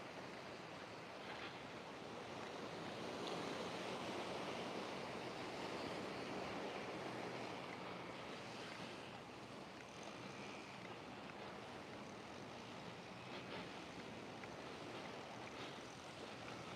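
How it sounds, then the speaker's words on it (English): Sea waves wash onto the shore at La Caleta in a continuous, faint surf rumble with some wind noise, no talking. "Just listen to the sound of the sea."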